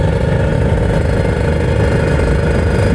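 A two-stroke Kawasaki Ninja ZX 150 motorcycle engine runs loud and close with a steady, raspy buzz and a faint metallic clatter, holding an even pace throughout.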